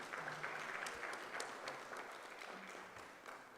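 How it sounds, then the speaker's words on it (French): Assembly delegates at a general meeting of an African biosphere reserves network applaud, a distant, fairly quiet wash of many hands clapping continuously without pause. "Applaudissez tout AFRIMAB."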